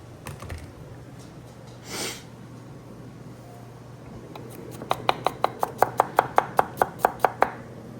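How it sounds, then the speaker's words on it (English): A knife chops garlic on a cutting board, first with a few scattered taps, then a quick, steady run of about a dozen sharp, close knocks near the end. "Chopped garlic."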